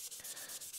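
Sandpaper rubs back a purple-stained guitar finish in quiet, steady back-and-forth strokes, about seven short passes with brief gaps between them.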